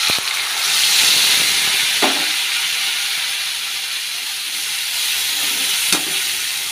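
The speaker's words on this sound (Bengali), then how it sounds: "এখন মশলাটা দিয়ে দেব। এখানে আছে জিরে, কাঁচা লঙ্কা, শুকনো লঙ্কা, টমেটো আর রসুন, পেঁয়াজ দিয়ে একসাথে পেস্ট করে নিয়েছি।" A spice paste of cumin, green and dried chilies, tomato, garlic and onion fries in a pan with a steady, close sizzling hiss, broken by two brief clinks about four seconds apart.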